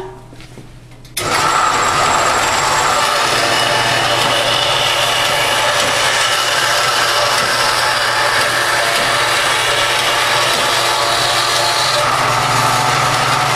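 A 4x6 horizontal-vertical band saw starts up and cuts through wood, a steady loud whir and rasp that carries on alone after a brief quieter moment at the start.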